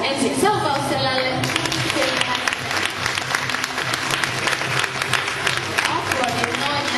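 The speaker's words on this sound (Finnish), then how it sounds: "Aplodit noin" Applause from an audience at a closing ceremony, steady dense clapping throughout that fills the whole stretch at an even level.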